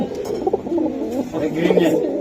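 A green neck pigeon coos in soft, repeated throaty phrases close by, with a breeder's pigeon loft around it and faint background noise.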